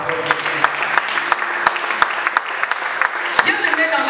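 Applause from a church congregation: many hands clapping in a thick, continuous patter with sharper individual claps popping out, alongside voices in the crowd.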